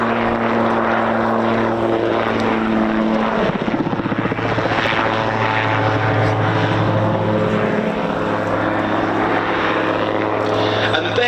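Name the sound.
autogyro flying and manoeuvring at an airshow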